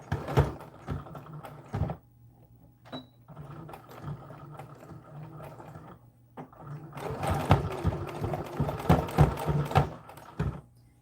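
A sewing machine runs a narrow seam in short bursts, stopping and restarting several times, with a longer, louder run of stitching near the end; close and clear with no talk.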